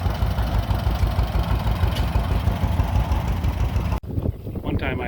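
A two-cylinder tractor engine rumbles steadily at close range at a threshing show, with a loud continuous low drone that briefly dips near the end before resuming.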